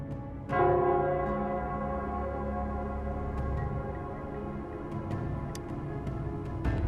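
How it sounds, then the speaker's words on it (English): A town square bell in the Wuthering Waves video game rings with a struck onset followed by a long, sustained, resonant hum that lingers steadily, with faint higher chimes later over a constant background. "It's the Nell Squares bell."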